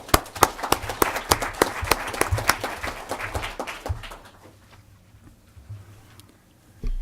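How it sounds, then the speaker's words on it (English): Sparse clapping from a small audience at a city council meeting, individual claps distinct and uneven for about four seconds, then fading out to quiet room noise. "Let's have them a round of applause."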